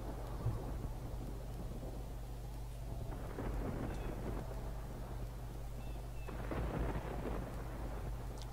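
Steady rain with rolling thunder in the video game Tomb Raider Chronicles, a continuous dense wash with deep rumbles swelling around the middle and again near the end, no voices.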